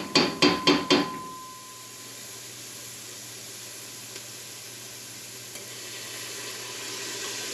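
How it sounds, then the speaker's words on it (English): Marinara sauce in a hot pan after a splash of vinegar: four sharp clacks in quick succession open it, then a steady, fairly loud sizzling hiss carries on alone to the end. "at this point, we're gonna add a little bit of vinegar"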